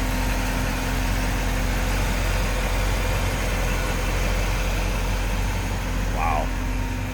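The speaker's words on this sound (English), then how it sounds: "it's a nice, smooth running engine. Sounds good" A 1957 Chevrolet Bel Air sport coupe with HEI ignition idling smoothly, a steady low engine drone holding even throughout, close and continuous, with a brief faint chirp near the end.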